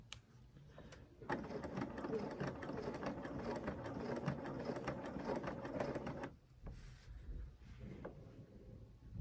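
A sewing machine stitches during ruler-work quilting with a Westalee ruler. Its motor whirs steadily and closely for about five seconds, then gives a few shorter, quieter bursts.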